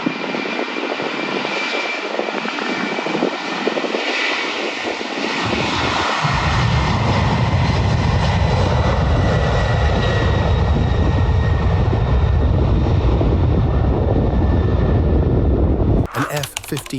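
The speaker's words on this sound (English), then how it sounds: "forcing an Airbus A340 behind it to abort landing and go around" An Airbus A340 airliner aborts its landing and goes around, its jet engines giving a loud, steady roar that swells partway through and then cuts off abruptly near the end.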